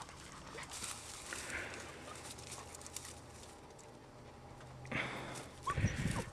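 Eight-week-old lion hound puppies outdoors on rough, cactus-strewn ground, with faint whimpers and low yips over a steady rustling background, and a brief louder burst of activity near the end.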